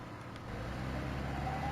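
A vehicle engine runs in the video game Voices of the Void, a steady low droning motor hum that swells slightly louder and holds, with no talking.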